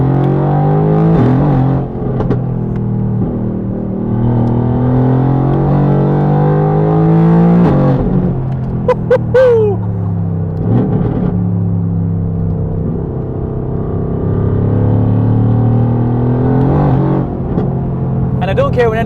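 A 900bhp, meth-injected Mercedes-AMG GT R revs hard nearby, its engine pitch rising and falling through repeated throttle blips and sustained pulls, loud and alone.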